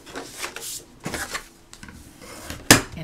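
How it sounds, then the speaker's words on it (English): Scored paper is folded and burnished by hand, giving soft close rubbing and crinkling sounds, then a sharp crisp swipe near the end. "and fold and burnish."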